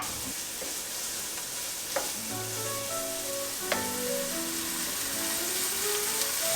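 Onions sautéing in a pan, a steady close sizzle with scattered sharp clicks and scrapes of a spoon or spatula against the pan, while soft music with plucked melodic notes plays in the background.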